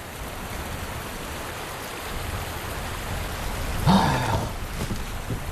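Steady rain falls in a period drama scene, a constant even hiss throughout with one brief louder splash or knock near the middle; no voices.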